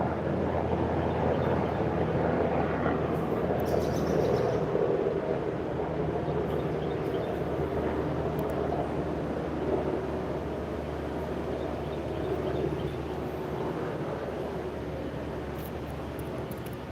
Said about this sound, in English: Black helicopter. Come to fucking ruin my day.